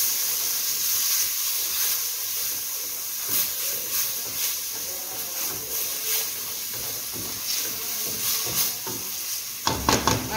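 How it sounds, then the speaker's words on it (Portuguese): Tomato, bell pepper and onion sauté in a hot pan with a steady hiss and sizzle, broken by soft stirring scrapes and a few louder clatters near the end, close-up with no talking. "Vamos refogar todo mundo."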